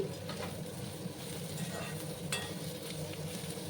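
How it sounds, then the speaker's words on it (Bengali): Chopped ginger fries in oil for a jackfruit seed dal, a soft, low-level continuous sizzle with faint scattered crackles and a quiet background hum. "একটু লাল লাল করে আমি ভেজে নেব"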